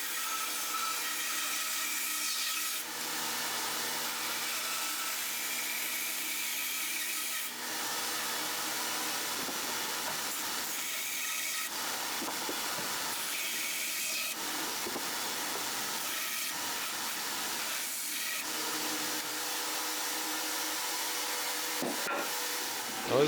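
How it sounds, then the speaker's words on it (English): Bandsaw cutting wood for a bench built from 2x4s, with the blade running in a steady whine broken by several rougher grinding passes as the blade works through the timber. "On the bandsaw, or right to the sander if you don't have one, cut out most of the wood."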